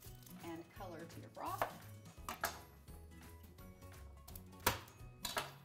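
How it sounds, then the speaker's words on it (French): An unpeeled onion is chopped on a board, a quiet, uneven series of knife strikes and crisp slicing crunches close by, with no talking. "Coupez l'oignon sans enlever la pelure pour ajouter de la saveur et de la couleur au bouillon."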